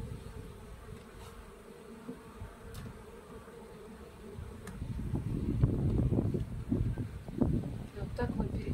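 Honeybees buzz steadily around open hives during a spring colony inspection, a dense droning hum that swells louder and closer in the second half, with light wind noise and occasional talk mixed in.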